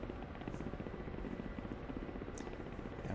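A Ka-50 helicopter in the DCS flight simulator drones with a steady rotor and engine hum as throttle is increased, constant and fairly loud with no talking.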